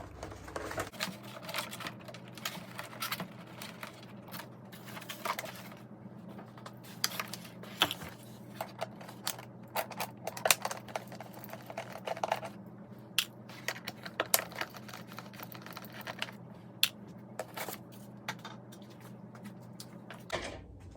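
Close, intermittent clicks, taps and plastic knocks of screws being backed out and a rudder and elevator pulled from an E-flite Viper 90mm EDF jet fuselage, scattered irregularly over a quiet background.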